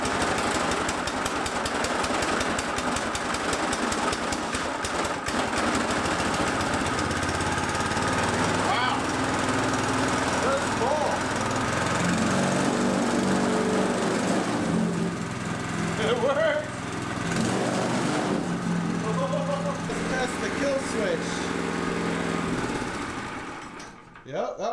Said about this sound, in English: Now put some gas, and we'll just do a test fire up. I'm gonna see if I can get it to start.